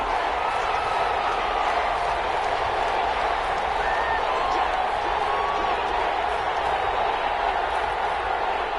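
Football stadium crowd at a Steelers–Chargers NFL game, a steady dense roar of cheering with scattered clapping running continuously throughout, broad and sustained rather than building to a peak.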